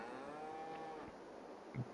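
Cattle lowing in the farming game Farming Simulator 22: a long, drawn-out moo rolls on for well over a second at moderate distance, followed by a low grunt, with no talking over it.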